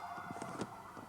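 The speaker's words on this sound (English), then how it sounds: "How appropriate that the sirens were going in the background." Sirens in the background on a city street in Iowa City, a faint sustained tone with other muffled outdoor noise, brief and distant.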